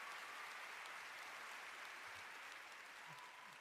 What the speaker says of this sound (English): Again, cast members, round of applause.